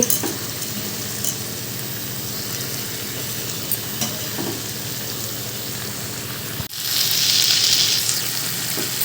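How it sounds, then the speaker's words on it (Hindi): Chicken sizzling with onions and masala spices in a pan, a steady close frying crackle with occasional stir clinks, then a louder, hissier burst of sizzle near the end, no voices. "अब सभी मसालों को चिकन के साथ अच्छे से फ्राई करेंगे"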